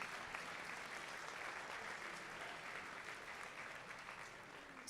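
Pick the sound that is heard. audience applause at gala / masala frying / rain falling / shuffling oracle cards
audience applause at gala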